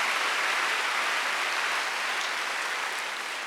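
Sustained applause from a church congregation at a Sunday worship service, many hands clapping in a dense, even roar that holds steady, with no talking over it.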